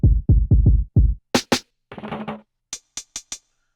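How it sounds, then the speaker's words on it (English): Five punchy low kick drum hits from a sample played on a Maschine pad controller open the run, followed by two bright snare cracks, a short noisy burst and four crisp high clicks, all dry and close with no voices. "And then I also have this kick."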